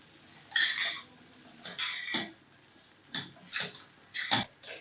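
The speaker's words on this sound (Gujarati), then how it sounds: "હલકા હાથે આને મિક્સ કરી લેવાનું છે." Spoon scraping and stirring poha in a pan, a few short clattering bursts with pauses between them, close up and with no talking.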